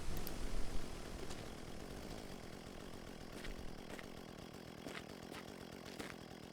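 Chainsaw in the video game Mon Bazou, a steady buzzing engine drone that runs throughout with a louder start and a few faint clicks, no talk over it.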